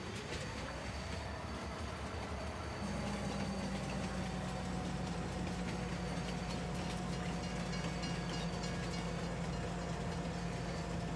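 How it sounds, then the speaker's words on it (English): Train rolling past in Farming Simulator 19 on an Alpine farm map, a steady loud rumble of wheels and engine with a low drone that steps up partway through, continuous and close, with no talk. "See the train coming along right there."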